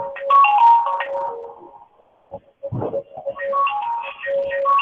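A phone ringtone melody plays loudly and close by during a spoken lecture. It breaks off briefly and then resumes, repeating its tinkling tune.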